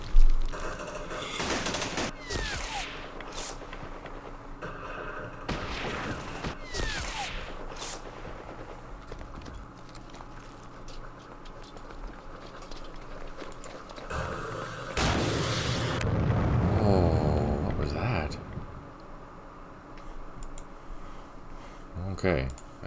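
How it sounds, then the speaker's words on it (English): Airstrike in the Campaign Series Middle East wargame, heard as bursts of explosive booms and gunfire-like cracks, with a heavier sustained blast rumble midway, over faint background sounds. "that was an airstrike"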